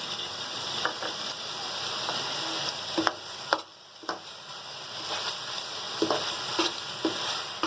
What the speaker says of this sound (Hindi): अच्छी तरीके से मिक्स करेंगे, अच्छी तरीके से हम भूनेंगे अपने मसालों को।